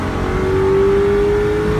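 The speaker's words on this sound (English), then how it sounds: "I'm sure this car's never been redlined, but I'm going to go ahead and do it" A 2002 Ford Thunderbird engine revved hard toward redline, a loud close steady roar with pitch climbing smoothly and holding high throughout.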